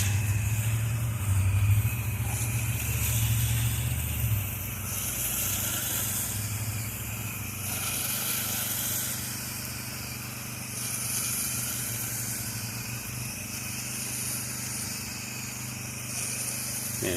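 A pressure washer engine drones steadily and fairly loud while house siding is washed section by section, a continuous running hum with slight shifts in level and no voices.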